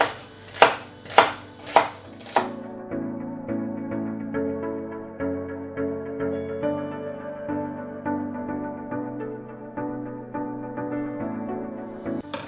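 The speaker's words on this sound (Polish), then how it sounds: "Teraz seler pokroję w taką kostkę nierówną." Celery chopped into rough cubes on a board, a few sharp knife strikes followed by a steady run of softer rhythmic chops, close and alone.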